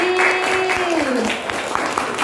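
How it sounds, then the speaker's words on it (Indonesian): Classroom applause for a student group, a short burst of clapping from schoolchildren while a teacher's voice carries over it. "Tepuk tangan untuk kelompok 5 tadi."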